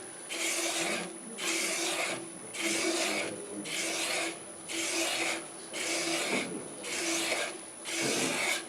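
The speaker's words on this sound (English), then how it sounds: "A lot of sanding can just be done right on the lathe." Repeated rasping strokes of sanding wood on a spinning lathe in a steady rhythm over a continuous high whine and machine hum, close and fairly loud.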